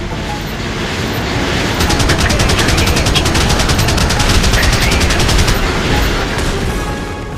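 An Apache helicopter's cannon fires in the video game Apache Air Assault as a loud, rapid, sustained burst of gunfire lasting several seconds over a heavy rumbling bed of engine and explosion noise.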